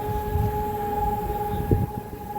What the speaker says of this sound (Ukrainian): У нас знов повітряна тривога